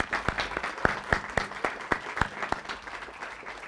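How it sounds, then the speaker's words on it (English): Scattered audience applause at a Kentucky governor's press update, distinct individual claps ringing out in a sparse, uneven rhythm from a modest crowd in a room, moderately loud and fading slightly toward the end. "Please join me in a round of applause for our staff and our tourism industry partners."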